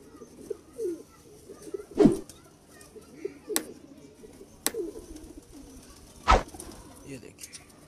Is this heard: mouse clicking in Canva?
no